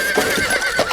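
Horses neigh loudly in a scene from the Attack on Titan anime, a shrill whinny rising and falling over busy hoof clatter, close up and filling the whole second.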